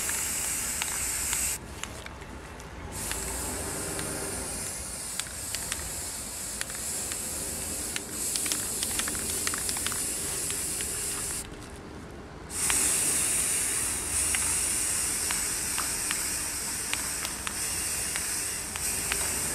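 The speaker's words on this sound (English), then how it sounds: "you have to spray some let it dry, then spray some and let it" Spray paint hissing from an aerosol can onto a TV tray table, a long steady close hiss broken by two brief pauses, then resuming loudly.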